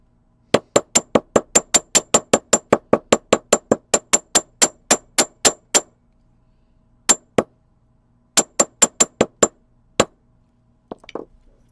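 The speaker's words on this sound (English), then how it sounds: "now I'm going to hammer this" Sharp metallic hammer strikes on a jewelry pennant piece ring out in a fast steady series, pause, then a shorter burst of blows, ending with a few lighter clinks.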